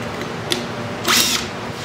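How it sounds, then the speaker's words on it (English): A drill boring angled pocket holes through a Kreg jig gives a brief high-pitched whir, with a short tick beforehand, heard up close in a home workshop. "It's where you can drill holes at a slant."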